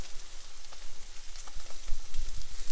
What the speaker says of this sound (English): salmon's in the pan, you can hear that it's still sizzling away